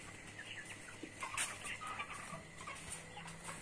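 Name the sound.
native chickens clucking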